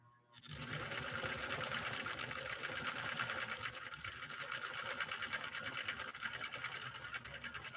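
A Nordic Husqvarna Automatic sewing machine stitches at a steady fast speed, a close, even rattling whir that starts suddenly and runs on without pause.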